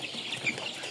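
Paragon colour-bat meat chickens, 32 days old, kept in a farm shed, clucking softly and continuously in a dense overlapping chatter with a few sharper calls.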